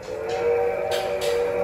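A train whistle sounds as a sustained, loud, steady tone with a faint hiss, held throughout with no talking.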